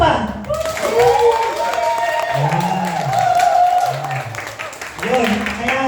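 Guests clap at an 80th birthday celebration, scattered applause from a small gathering heard beneath people talking, with voices rising and falling over the clapping.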